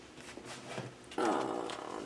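Small tarot card deck with rough, hard-to-shuffle stock being shuffled, a dry papery riffle bursting in close and loud partway through after quieter handling rustle.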